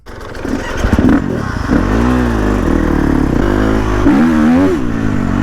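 A dirt bike engine barks to life and then roars loudly up close, holding a rough, thunderous idle with repeated throttle blips climbing and dropping in pitch.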